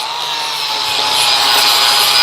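A flap disc on an angle grinder smooths wear marks from a front axle spindle tip, making a loud, continuous abrasive hiss and rasp that rises slightly as the contact continues, with no talking.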